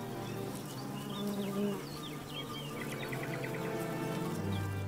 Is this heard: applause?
no